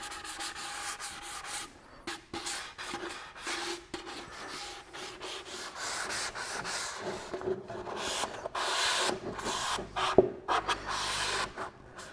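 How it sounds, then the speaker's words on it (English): Scotch-Brite pad scuffing curved wood coated in Deft brushing lacquer, a soft, steady rubbing and scratching close up with irregular strokes and one sharp tap near the end. "I'll just grab a 3M Scotch-Brite. Give it a little scuff with that."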